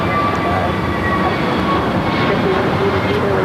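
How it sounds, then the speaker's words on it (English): An American Airlines Airbus A321neo jet at LAX, producing a loud, steady, broadband engine roar that holds constant throughout. "American Airlines Flight 1767, A321neo"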